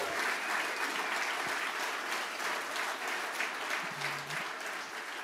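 Steady applause from a crowd at an evening Veterans Day rally in Wisconsin, sustained clapping that fills the space without a break for about five seconds.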